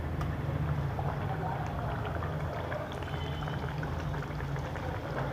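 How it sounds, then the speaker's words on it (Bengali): Matar kochuri, Bengali pea-stuffed puris, frying in hot oil make a steady, quiet bubbling sizzle that runs evenly throughout with no pauses. "তেলটা পুরো গরম হয়ে গেছে, একটা একটা করে এবারে একে ছেঁকে নিতে হবে।"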